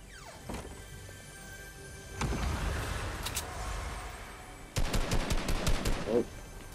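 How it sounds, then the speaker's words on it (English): Gunfire in a video game: a few isolated shots at first, then a rapid burst of close, loud reports near the end, with a lull of low rumble between. "Just me shooting at someone"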